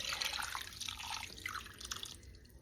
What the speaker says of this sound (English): we're going to just pour all this right over the meat